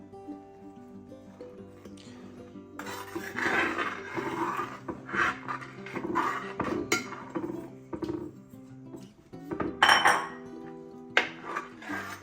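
Rice flour powder is whisked into thin coconut milk in a bowl for Malabar kinnathappam, giving irregular clinks and scraping of utensil against the vessel over soft background music, with a few sharper knocks.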